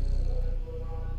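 A cat purrs softly in the video game Stray, a low, steady rumbling pulse heard close up and alone for about a second.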